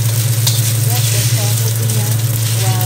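Garlic sizzles loudly and steadily in a hot pan, with occasional scraping of a spoon stirring it, and a constant low hum running underneath.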